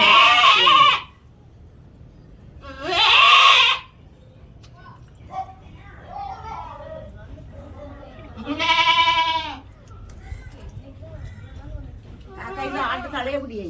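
A goat bleats loudly several times during a goat birth, long wavering cries close by, with people talking in Tamil between and over the calls.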